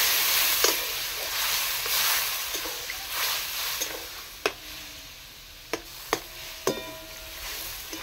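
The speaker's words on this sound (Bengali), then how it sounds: "আমি জল দিয়ে দিচ্ছি এখন।" Water hits a pan of frying potato curry, producing a loud, continuous sizzling hiss that gradually settles, with a few sharp ticks and pops of the spoon or pan near the end.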